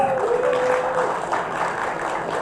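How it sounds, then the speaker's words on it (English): Crowd applauding at the Vivo V5 Plus IPL limited edition smartphone launch in Hyderabad, a short steady round of clapping with a thin tonal whine briefly over it at the start. "that deserves a round of applause"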